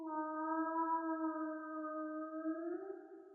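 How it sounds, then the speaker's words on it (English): A long, clean whale call glides almost level for several seconds as a single sustained tonal moan with rich overtones, close and isolated against silence, fading slightly at the end. "You know when you hear a whale sound and it sounds like this?"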